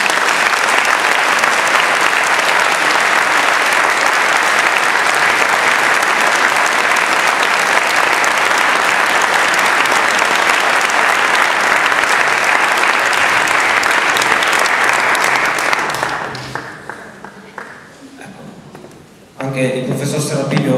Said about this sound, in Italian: vorrei veramente che regalaste un grandissimo applauso a questa banda